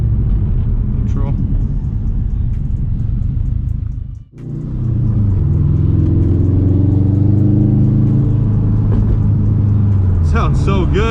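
A 2004 Subaru WRX STI engine rumbles deep and steady from inside the car during city driving, dipping briefly as it shifts to neutral before the low drone returns, with a person talking over it.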